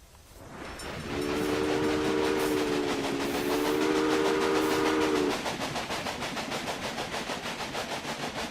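A steam train in the video game Railway Empire chugs rhythmically while a two-tone whistle blows for several seconds, then the steady chuffing continues alone.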